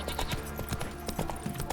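Roach the horse's hooves clip-clop at a steady walking rhythm in The Witcher 3, close and continuous beneath a busy game soundscape.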